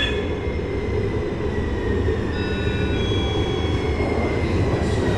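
A two-car SF Muni light rail train, a westbound K, rumbles steadily through Forest Hill Station, with a continuous low roar and faint high wheel squeal throughout and no talk.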